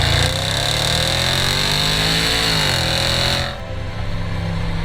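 A 2015 Range Rover Sport SVR engine pulls hard under throttle, a loud, close, continuous roar whose pitch climbs and sweeps through gears before the revs drop off and settle near the end.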